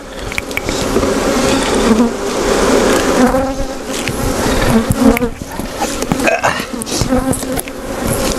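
Honey bees buzz loudly and continuously at close range while a split colony's hive is put back together after a puff of smoke, the dense drone swelling and easing with a few light knocks among it.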